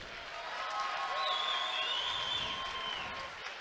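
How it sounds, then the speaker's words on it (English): Crowd applause and cheering fill an arena after an MMA bout ends in an early first-round submission, a steady dense roar held throughout with a faint higher voice or whistle riding over it. "A round of applause for these two fighters."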